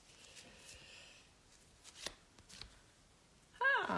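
Oracle cards are riffled and shuffled in several soft, papery bursts near the mic, ending in a louder flurry of card handling as one is drawn; no talking.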